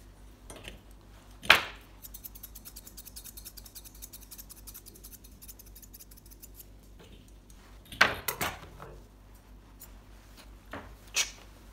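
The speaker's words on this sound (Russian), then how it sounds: "Мягкими легкими движениями по самому контуру проходишься прямыми ножницами." Straight scissors trim a Yorkshire terrier's coat, giving a run of small rapid snips close by, broken by a few louder clicks and handling noises of the blades.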